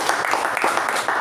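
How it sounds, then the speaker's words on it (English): Applause from the audience at a Toastmasters club meeting, a brief steady patter of clapping hands filling the room at moderate loudness, with no voices over it. "Give both of them a big round of applause."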